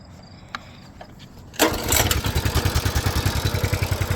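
A Coleman BT200X minibike engine is pull-started with fresh oil and fires up, then runs with a fast, rhythmic, putting chug close by.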